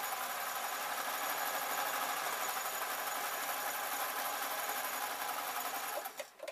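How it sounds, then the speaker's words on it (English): A sewing machine runs steadily and evenly while sewing down a seam on a simple fabric scarf top, a close, continuous whir that stops abruptly near the end with a couple of clicks. "I'm just going to sew down"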